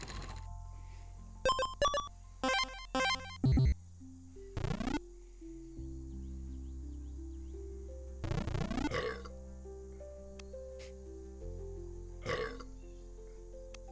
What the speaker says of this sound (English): I like that sound. That burp sound.